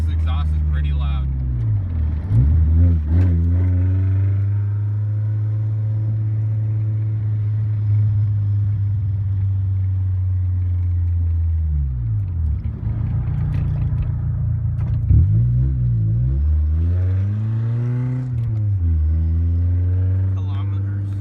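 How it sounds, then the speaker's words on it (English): A loud exhaust on a Nissan 240SX with an SR20 engine drones steadily, the engine revving up and dropping back a few times, close and continuous throughout. "Probably barely hear us because this exhaust is pretty loud."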